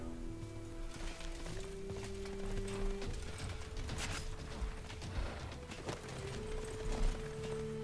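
Hooves of a horse unit clip-clop in the PC strategy game Civilization 6, a steady trotting patter set against sustained in-game music and ambience.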